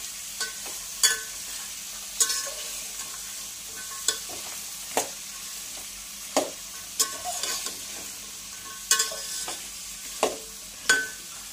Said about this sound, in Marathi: तर या छान भाज्या आपल्याला परतून घ्यायच्या आहेत।